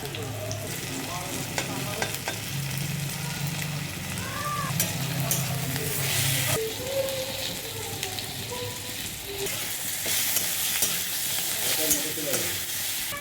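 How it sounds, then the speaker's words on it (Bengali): Tomatoes and chopped garlic fry in a pan, producing a loud, steady sizzle and crackle throughout, with occasional stirring and faint voices in the background. "এটা ভাজা হয়ে গেছে, এর মধ্যে জাস্ট একটু রসুন কুচি দেবো"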